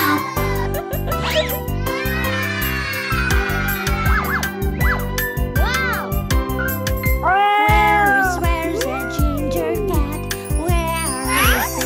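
Ginger cat meowing repeatedly in a children's song, its cartoon-like meows rising and falling over a bouncy musical backing with jingling accents.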